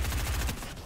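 A quick burst of rapid gunfire in Fortnite, several shots in fast succession, dense and loud, then tapering off.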